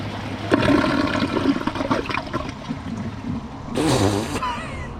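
A Kohler Highline Pressure Lite toilet, recently clogged, flushes loudly up close, its pressure-assisted whoosh of rushing water running for several seconds before a short sharp burst near the end.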